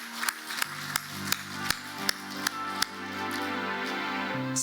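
A church congregation claps together in a steady, regular rhythm, about two sharp claps per second, over a sustained musical drone. The clapping stops near the end, and the drone carries on alone.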